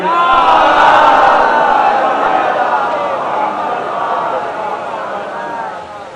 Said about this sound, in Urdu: اور اگر مومنین کا دل چاہے تو بلند ترین نعرے جواب دیجیے